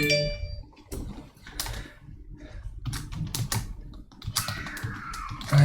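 Typing on a computer keyboard in Visual Studio for Mac: irregular bursts of close key clicks and taps with short pauses, fairly loud and alone.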